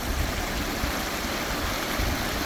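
Stream water pouring out of a coanda screen intake, a dense, steady, close rushing and splashing roar with no pauses or voices.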